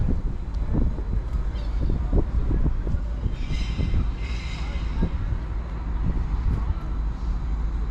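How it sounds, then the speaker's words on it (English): A Greater Anglia Class 755 train pulls out of Woodbridge station on the East Suffolk Line, a low rumbling roll with rhythmic wheel thumps and a brief higher whine, under wind buffeting the microphone. "departing out now will be 755327. Just heading out on a Greater Anglia service."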